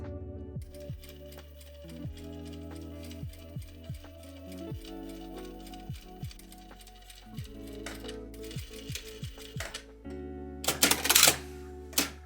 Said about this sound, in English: we're going to sew as close as we can get to the edge of the zipper teeth